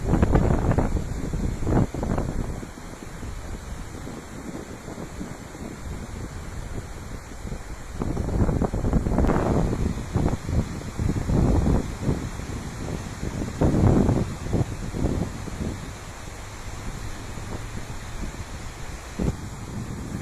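Strong wind buffeting the microphone at a shore with rough waves, gusty roaring bursts rising and falling over a constant hiss of surf.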